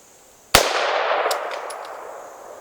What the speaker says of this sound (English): Let's turn it around and shoot it again and see how much damage it causes